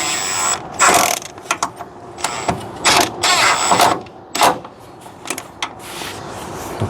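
Quick bursts of ratchet clicking tighten 12mm bolts on an extension during a car repair, each burst a short rapid run of metallic clicks with pauses between, close by and with no talk.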